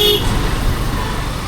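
A car horn honks briefly in busy road traffic, a short toot at the start followed by steady engine and traffic rumble close by.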